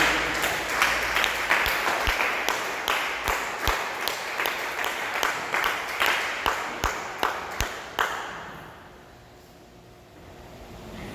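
A church congregation claps together in a steady rhythmic beat, sharp even claps repeating about twice a second for several seconds before stopping and leaving a quiet room hum.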